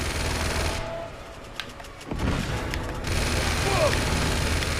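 Grenade explosion and machine gun fire in the video game Uncharted 2 while attacking a machine-gun nest: a loud boom after a dull stretch, followed by continuous rattling gunfire mixed with game noise and talk.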